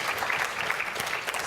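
A conference audience at MCON13 breaks into a short burst of dense, steady applause, many hands clapping together at close range.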